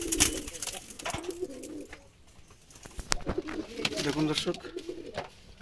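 Wild Jalali pigeons coo in low repeated bursts close by, with brief sharp rustles in between, while someone talks over them.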